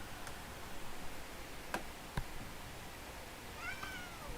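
A pet cat indoors gives a faint, short meow near the end over a quiet room hiss, with a couple of soft ticks earlier.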